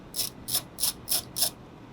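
A ratchet loosening a 10 mm bolt on a panel of a Toyota Prius gives five evenly spaced clicking bursts, close and crisp, then stops, with no talking.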